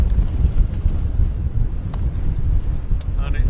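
Steady low wind buffeting a microphone aboard a reefed sailboat crossing a bay on the Sound of Mull, Scotland, a continuous rumbling roar with faint splashes of water and no clear talk.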